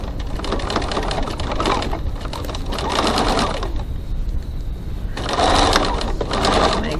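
Sewing machine stitching the first half of a crossbody bag seam at a 3/8 inch seam allowance and 2.4 stitch length, a steady close mechanical whir in bursts with a short pause midway.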